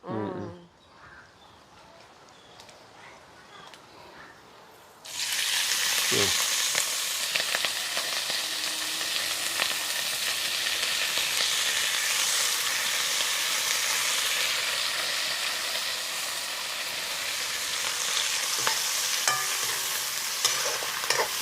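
Oil is poured into a hot pan and bursts into loud, steady sizzling after a quiet start, with scraping stirring and frying continuing throughout.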